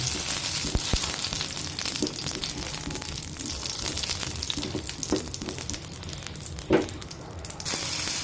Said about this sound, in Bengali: এখন এর মধ্যে গোটা শুকনো মরিচ দিয়ে দেবো এটাকে ভালোভাবে ভেজে নেব